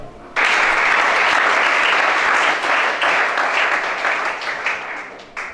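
A church congregation at a deliverance service bursts into loud, sustained applause that starts abruptly and continues as dense clapping, easing slightly toward the end.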